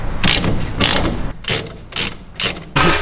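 A ratchet with a 14mm socket works on a Porsche transmission, giving close, repeated rasping clicks in five or six quick bursts with short pauses.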